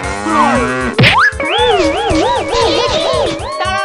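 A cartoon bull bellows in a loud, warbling, wavering drone, broken early by a springy boing-like effect, and the sound carries on close and prominent until near the end.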